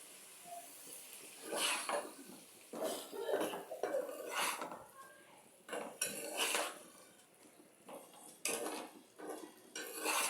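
A utensil scrapes and clinks against a pan while pumpkin and prawn curry is stirred with cumin powder, making irregular metallic knocks and scrapes with faint sizzling underneath.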